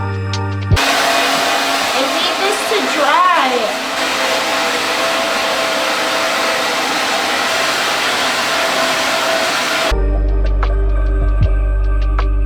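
A hair dryer roars steadily for about nine seconds as it blows on a wet crocheted yarn Halloween costume, loud and close, then cuts off abruptly into quiet room tone.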